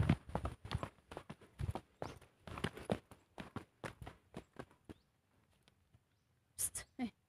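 Horse hooves clip-clopping on a hard surface during a paid ride, a steady run of close, crisp hoof strikes that pauses briefly before a few more clops.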